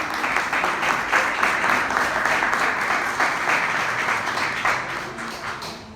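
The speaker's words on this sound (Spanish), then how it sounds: "fuerte aplauso para él también." Audience applause at a book presentation on the images, history and memories of Teocelo, a full, even round of clapping from a crowd that holds for about five seconds and then starts to taper off.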